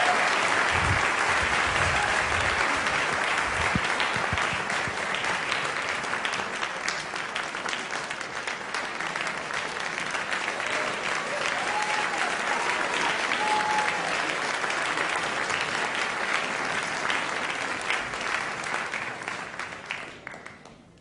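A large audience applauds as scientists are welcomed onto a stage, sustained dense clapping that carries on for about twenty seconds before tapering off at the end.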